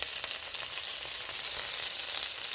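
Salisbury steak patties browning in a pan give off a loud, dense, continuous sizzle, close and steady throughout with no voices.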